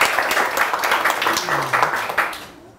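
Audience clapping at a Portuguese-language lecture event, a brief burst of moderate applause from a crowd that fades out after about two and a half seconds, with a faint voice underneath.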